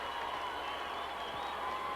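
A crowd at a 1995 high school Prep Bowl championship football game roars steadily at the kickoff, a dense, far-off wash of cheering and applause that fills the whole stretch without a break.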